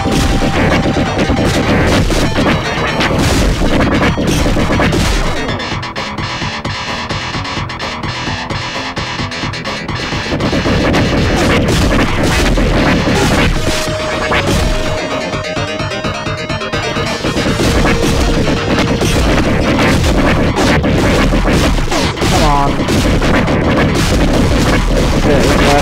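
Heavy gunfire and explosions crash almost without pause while enemies are shot down in the Sewer Shark video game. Dense, loud volleys and booms run the whole way, easing briefly midway before building again.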